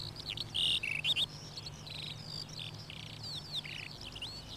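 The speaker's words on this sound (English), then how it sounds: "Over these same fields, the air rings to the song of the skylark" A skylark singing over open spring fields, bright chirping phrases and trills repeated in quick bursts, fairly near and clear over a quiet outdoor background with faint insect hum.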